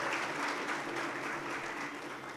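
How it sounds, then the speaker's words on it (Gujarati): An audience applauding at a Thursday talk event, a dense even wash of clapping heard at moderate level throughout, with no voices on top. "અશ્વિનભાઈ સુદાણીને આપણે જોરદાર તાળીથી વધાવવા છે"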